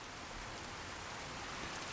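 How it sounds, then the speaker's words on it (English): Heavy rain pours in the video game Fallout 4, a dense, even hiss of falling drops hitting surfaces that stays constant throughout with no voices. "Especially since the rain here is like really terrible."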